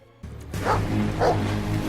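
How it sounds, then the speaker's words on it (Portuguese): A dog in the film The Invisible Man barks twice in a steady rhythm over low background noise, fairly close and loud, with no talking. "o cachorro poderia estar realmente latindo para Adrian"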